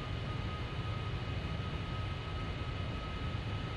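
Simulated Boeing 747-400 engines in a flight game during landing, a steady, moderate jet hum with a faint high whine throughout, no distinct throttle change.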